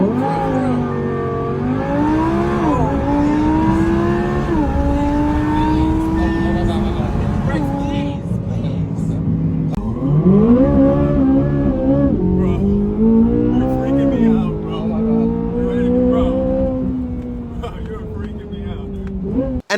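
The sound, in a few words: car driven violently, engine revving during test drive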